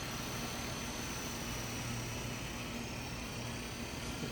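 A Walmart Sky Rover RC toy helicopter flying outdoors gives a steady, continuous whirring buzz from its small motor and rotor, constant in level throughout, with broadband wind-like noise around it.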